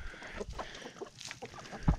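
Backyard chickens and roosters cluck close by in short, scattered bursts, with a louder call near the end.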